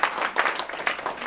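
An audience at a comedy revue at the Lava Center breaks into lively applause, with steady, dense clapping in uneven bursts at moderate volume and no talk over it.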